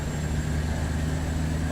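A custom Peterbilt 379 truck in American Truck Simulator rumbles with a deep, steady engine drone that stays loud and even throughout, with no breaks.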